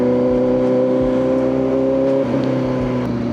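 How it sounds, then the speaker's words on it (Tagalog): A Kawasaki ZX-4RR inline-four motorcycle engine revs close by, its smooth high-pitched whine holding and then shifting pitch as the revs change, heard alone with no talk. "Pakinggan natin yung magandang tunog ng inline 4."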